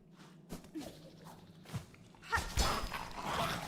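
A dog in the video game Poshanka makes a few soft whimpers and yips amid faint footsteps and game noise, the sounds scattered and fairly quiet.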